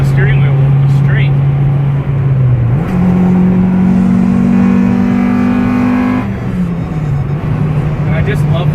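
A Honda Integra Type R, about 200 horsepower, droning steadily from inside the car while driving, its engine note climbing as it revs up, then dropping back; loud, with speech over parts of it.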